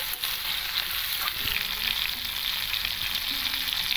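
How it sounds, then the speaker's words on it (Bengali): Mixed vegetables for shukto, added all at once, fry in oil with a loud, continuous sizzle and crackle, close by and steady throughout, with no voices. "আমি সব একবারে সবজিটা দিয়ে ভাজছি"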